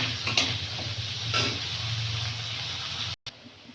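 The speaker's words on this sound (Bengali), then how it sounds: "তেলটা গরম হয়ে গেছে এই যে গাজরটা গোল গোল করে কেটে নিয়েছি গাজরটা ভেজে নেব" Round carrot slices frying in hot mustard oil with turmeric and salt in a village kitchen, giving a steady close sizzle with a few soft stirring knocks, a short drop near the end, and no voices.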